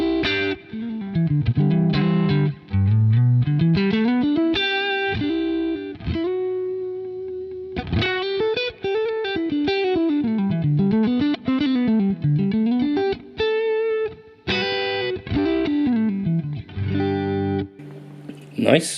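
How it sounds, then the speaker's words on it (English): Electric guitar played through a Quad Cortex processor with a lush reverb set low in the mix, heard alone as a continuous melodic passage of sustained, bending notes and chords, steady and loud throughout. "We'll go for, first of all, a lush reverb. I'll take the mix nice and low."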